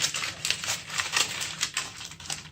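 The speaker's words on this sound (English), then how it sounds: "I'm going to achieve that by lightly crinkling up this aluminum foil" Aluminum foil lightly crinkled by hand for a Batman costume utility belt, giving close, quiet bursts of crisp crackling in an irregular rhythm of short rustles.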